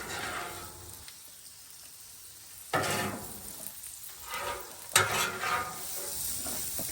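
Eggs fry on a hot Blackstone griddle with a steady, soft sizzle, and several louder bursts of spatter and scraping stand out over it.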